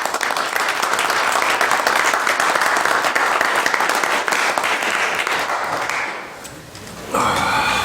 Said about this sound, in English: a round of applause again for Evan.